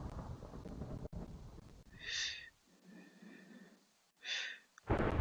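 A heavy thunderstorm in Minecraft: a dense rush of rain and wind, a deep rolling thunder rumble in the middle, and a few short wheezy, tonal squeals breaking through.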